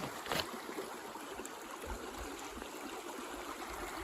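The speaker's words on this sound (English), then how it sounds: "We call that a stream in Ireland." Creek water flowing steadily outdoors in Oklahoma, a soft continuous babble and trickle heard at moderate distance with no voices, with a brief louder splash near the start.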